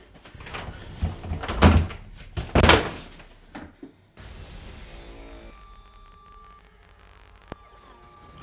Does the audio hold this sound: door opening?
yes